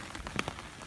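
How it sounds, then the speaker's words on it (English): Heavy rain pours down on a high mountain trail during a thunderstorm, a dense steady hiss with a few louder drop impacts close by, no voices. "it's pouring rain, and we have lightning and thunder above us."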